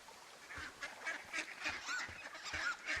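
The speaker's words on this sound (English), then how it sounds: "Actually, I hear ducks that I can't see." Ducks quack in the Firewatch video game, a series of repeated nasal honking calls at a moderate distance over a quiet outdoor ambience with no talk.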